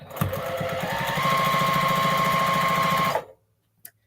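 A sewing machine top stitches a baby cape seam in a close, loud, rapid rhythmic run lasting about three seconds, then cuts off abruptly, followed by a brief faint click.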